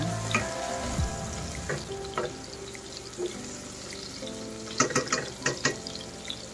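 Sautéed bottle gourd stirred in a frying pan, a steady background hiss broken by scattered scrapes and a quick cluster of spoon clinks near the end, close and moderately quiet, with no speech.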